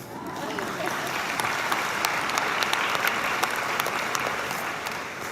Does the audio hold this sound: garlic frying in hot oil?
no